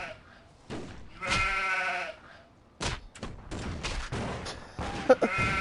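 Several sheep bleat in wavering cries in the video game Stubbs the Zombie Remastered, near and fairly loud, with thuds and scattered clatter between the calls.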